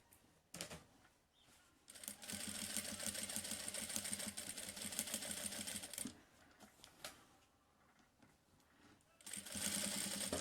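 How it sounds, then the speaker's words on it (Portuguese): A sewing machine stitches a seam in fast mechanical runs, clattering rapidly in bursts of a few seconds that stop and restart, close and clear. "Sempre o calcador rente à costura."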